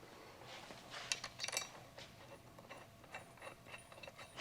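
A ratchet clicks in short, quick bursts, close but faint, as bolts are tightened on an oil cooler bracket in a BMW E36 engine bay.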